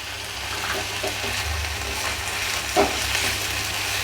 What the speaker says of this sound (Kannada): ಈಗ ಇನ್ನೊಂದು ಸ್ವಲ್ಪ ಫ್ರೈ ಆಗಲ್ರಿ